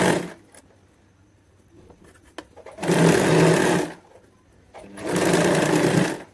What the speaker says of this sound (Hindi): अब हम इस पे स्टिच लगा देंगे।